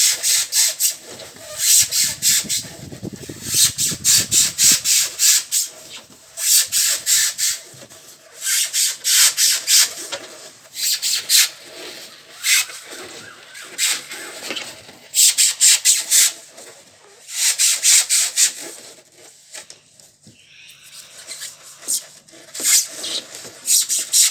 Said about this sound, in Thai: เทคนิคง่ายของการเจาะกล่องโฟม